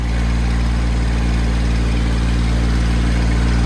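A steady, loud low-pitched drone from a tractor engine labouring on a high-altitude Himalayan road in Spiti where it lacks pickup, a continuous rumbling hum throughout with no talking.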